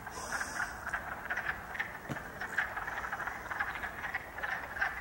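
Leopard frogs croak in a continuous, rattling spring chorus, repeated short pulsing calls layered together against a quiet outdoor backdrop.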